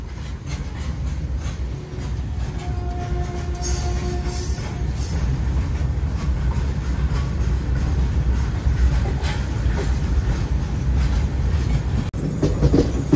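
The Narsapur Dharmavaram Express rolls steadily along the rails, a continuous loud rumble with wheel clatter and a brief high squeal early on, heard from on board.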